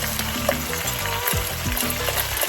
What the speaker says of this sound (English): This is 2½ cups of long grain rice that I already pre-rinsed. So I'm just gonna add this to my pot.